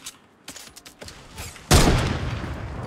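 A few light clicks and taps lead into a single loud gunshot blast in Fortnite, with a rumbling tail that fades slowly.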